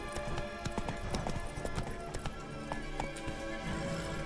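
Horse hooves clip-clop at a quick, steady gait in The Witcher 3, sharp taps repeating over a continuous game background, with an occasional whinny.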